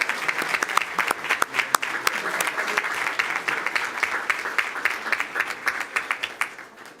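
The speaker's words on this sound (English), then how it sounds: "Let's give them a round of applause." A crowd at a school board meeting applauds warmly for a mariachi group, dense clapping that stays steady, then thins slightly toward the end.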